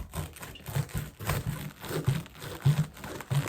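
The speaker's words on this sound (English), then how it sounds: "Then we're just going to cut it in half again." Knife cutting through a cabbage for sauerkraut, with a run of close crisp crunching and crackling as the blade works through the leaves, fairly quiet.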